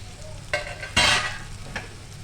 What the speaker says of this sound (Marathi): ते आपण एकत्र करून घेऊ ना. हो, परतवून घेऊया.